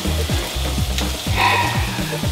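Meat sizzles loudly in a hot pan, a steady close frying hiss broken by repeated scraping stirs, with no voices.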